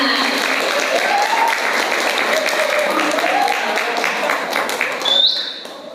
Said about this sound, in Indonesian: Tepuk tangan yang meriah buat mereka semua